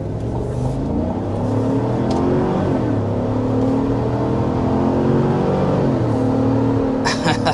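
A 2025 Chevy Traverse RS with 328 horsepower, not a four-cylinder, accelerates hard to 60 mph, its engine droning loudly and rising in pitch through several gear changes, heard from inside the cabin.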